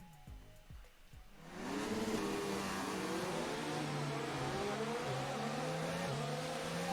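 A Formula 1 race car engine in F1 2019 revs up loudly at the race start and holds a high, steady whine with small pitch shifts, close and continuous after a short quieter lead-in.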